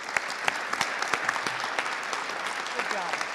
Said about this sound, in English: give us another round of applause.